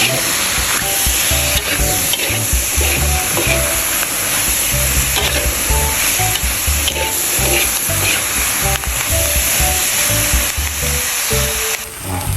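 Chicken giblets and chives stir-fry in a pan with a constant loud sizzle, while a utensil scrapes and stirs in busy, irregular strokes throughout, with no talk.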